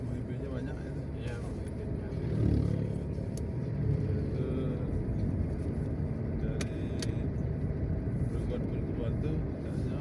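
Road traffic rumbles steadily on a drive from Lubuk Linggau toward Betung in South Sumatra, a continuous low engine and tire drone with a brief swell, under ongoing conversation.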